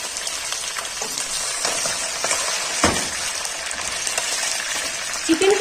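Chicken fries in tomato paste for a chicken gravy, a steady close sizzle with occasional spoon scrapes and stirring clinks against the pan throughout.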